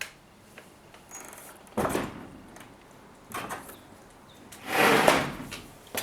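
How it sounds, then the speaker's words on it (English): Window shutters are opened indoors in several separate wooden knocks and sliding scrapes, with a longer, louder rattling push near the end, all close by with no talking. "I'm gonna try to open the shutters again because the lighting is so dim"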